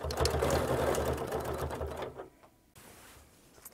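Sewing machine stitching free-motion quilted stars, a fast, loud mechanical rattle for about two seconds that stops abruptly, followed by quiet with a faint trailing clatter.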